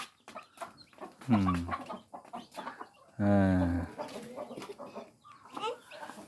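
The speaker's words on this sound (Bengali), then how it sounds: "মুরগির বাচ্চাগুলো মুরগি তাড়াই দাও, তোমার মুরগিগুলো তাড়াই দাও।" Household chickens with their newly hatched chicks cluck in a couple of short, fairly loud bursts close by, while a person briefly murmurs between the calls.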